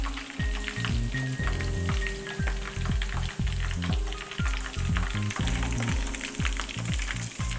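Egg-coated meat fries in hot oil in an African home kitchen, giving a steady, close crackling sizzle with repeated stirring scrapes throughout. No one talks.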